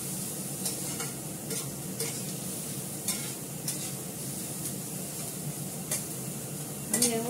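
Onions fry lightly in a pan with a low continuous sizzle, punctuated by occasional spatula scrapes and stirs, with a brief clink of utensils at the close.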